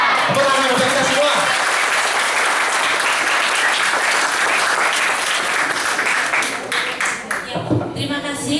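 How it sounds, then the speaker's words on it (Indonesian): Loud, sustained audience applause at a hospital's 2016 kick-off event, dense clapping that thins out near the end as a voice begins speaking. "Tepuk tangan untuk kita semua"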